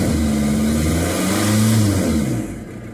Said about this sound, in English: Just revving it up